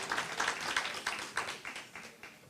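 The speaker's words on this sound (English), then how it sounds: "let's give them another round of applause" Audience applause for a choir at an NAACP Jubilee celebration, a dense patter of clapping throughout, moderately loud and steady, gradually thinning toward the end.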